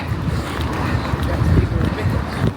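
Wind buffets the microphone in a steady low rumble during an outdoor run, loud and continuous with gusty surges throughout.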